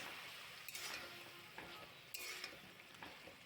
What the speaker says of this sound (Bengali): পাঁচ মিনিটের মতো একটু নাড়াচাড়া করে কষে নেব।